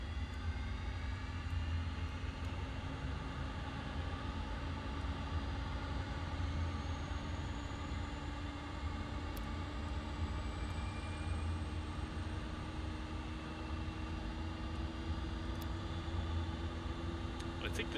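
The turboprop engine of a Mitsubishi MU-2 in a flight simulator, spooling up as a steady whine and drone with tones rising slowly, under quiet talk throughout.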